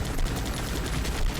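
Focused gunfire in the Guns Up! war game, a dense, loud burst of overlapping shots crackling continuously through the short stretch.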